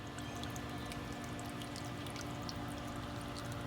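Water pouring steadily from the pot of a garden cherub fountain driven by a pump, a continuous splashing trickle that stays even throughout, close by, with no talking.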